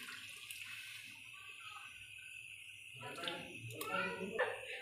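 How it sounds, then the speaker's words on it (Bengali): Water poured into a pot of cooking lentils (dal), a short splashing, gurgling pour that swells after a quiet start, with a voice speaking over it. "একটু জল দিয়ে দিলাম"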